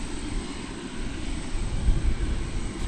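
Qantas airliner at DFW Airport, a steady loud roar of jet engines with broad rumble, sustained and swelling slightly, heard from outdoors with no talk.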